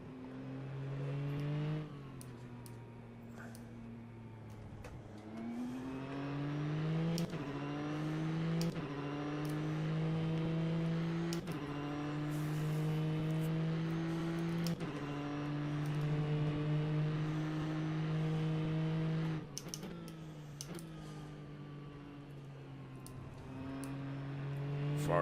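Ferrari GT3 race car engines, Apex GT3 mod in rFactor2 at Silverstone, scream steadily and close, climbing in pitch through repeated upshifts with brief drops between gears while two cars battle.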